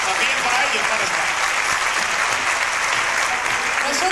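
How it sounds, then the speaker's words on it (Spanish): Continuous loud applause from an audience at the San Javier patronal festivities of 1995, a dense steady wash of clapping that holds unbroken for several seconds. "Vamos a darle ese último aplauso fuerte para todos ellos o para todas ellas"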